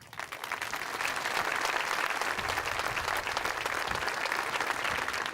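A seated audience at the Premio Navicella Sardegna 2009 award ceremony claps to welcome a speaker, producing loud, continuous, even applause that swells quickly after a brief start and holds steady to the end.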